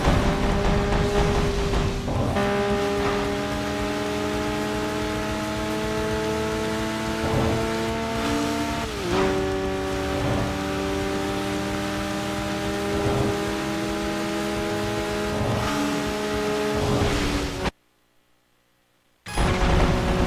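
A Honda VTEC engine from the racing game Tokyo Xtreme Racer drones and revs steadily with shifting harmonic tones, climbing and dropping across several gear changes, then cuts out briefly before resuming.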